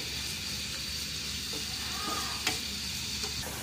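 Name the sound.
chopped onions frying in oil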